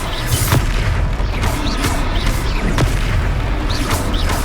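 Blasting-spell explosions in a Hogwarts Legacy battle sound as repeated heavy booms and bursts over a dense, rumbling combat din, loud and close.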